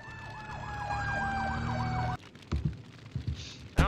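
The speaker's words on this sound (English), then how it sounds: "I don't think the sound effects are too good on this, on these fire trucks. Sirens kind of crap." A fire truck siren in a firefighting video game wails in a rapid rising and falling electronic yelp for about two seconds, then cuts out, followed by scattered thumps and brief noises.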